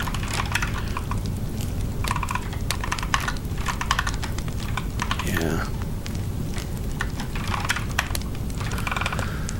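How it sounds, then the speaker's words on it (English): Fast, dense computer-keyboard typing fills the whole stretch, with irregular clusters of sharp key clicks at close range and no other sound competing. "I can't type"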